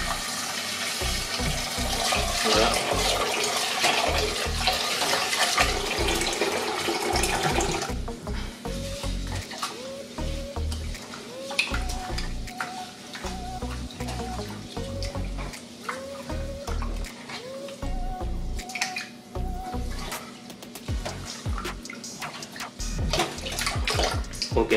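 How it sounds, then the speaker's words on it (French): Cold tap water runs hard and steadily over quinoa being rinsed in a kitchen, with a strong splashing rush at first that softens into varied trickling and spattering as the grains are stirred, and a brief spoken word near the middle. "on le rince directement à l'eau froide"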